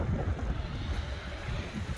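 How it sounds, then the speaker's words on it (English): Wind blows outdoors during a car repair, a soft steady gusting rush with low buffeting on the microphone, fairly faint and continuous, with no talk. "It's windy today too."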